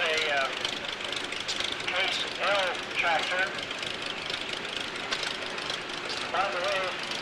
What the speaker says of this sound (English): And this is a case L tractor.